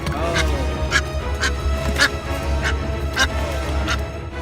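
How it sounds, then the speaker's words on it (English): A bird tangled in fishing line gives repeated honking, quacking cries at about half-second intervals, fairly close over a steady low background rumble. "This bird was caught on a fishing line and was crying for help."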